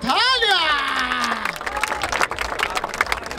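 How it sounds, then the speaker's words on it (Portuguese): Crowd at a Brazilian rap battle in Barueri erupts in applause and cheering, a dense wash of clapping and shouts under an emcee's loud drawn-out call. "Palmas pra essa batalha!"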